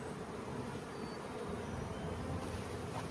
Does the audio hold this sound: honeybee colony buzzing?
yes